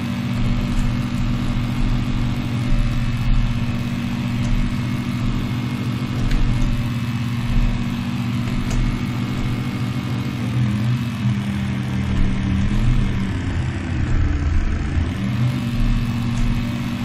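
A sports car engine in an Unreal Engine 5 Chaos Vehicle simulation hums steadily and loud for the whole stretch, its low tone shifting slightly as the revs rise and fall near the end, with no talk over it.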